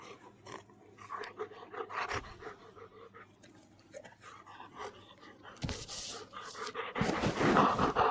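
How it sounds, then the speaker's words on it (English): A small dog that has come running into a park on its own pants and snuffles nearby, with rustling and bursts of outdoor noise around it and no one talking. "There's a little dog just come running into the park."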